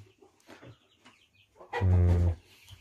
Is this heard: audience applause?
no